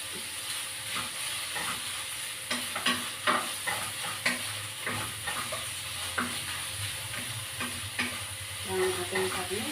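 Pork with Baguio beans frying in a pan, with a steady close sizzle and repeated scraping stir strokes running throughout, with no talking.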